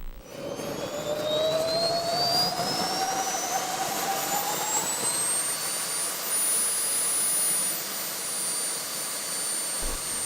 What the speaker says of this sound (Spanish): Ahí van a escuchar ese sonido característico del motor de avión.